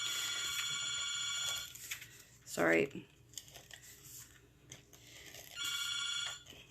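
A telephone rings in two long electronic bursts in a busy home while someone folds paper at a craft table, with crinkling and a brief spoken word between the rings.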